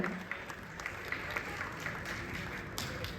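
A live audience at a Malayalam film promotion event bursts into applause welcoming a guest to the stage, with a dense, steady wash of clapping and crowd noise holding for the whole stretch.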